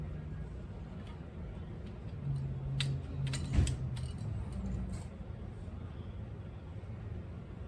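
A wrench tightens the head bolts on a Massey Ferguson tractor engine during a head gasket replacement. A few quiet ratcheting clicks and metallic creaks sit against a low background hum, with a brief cluster of clicks near the middle.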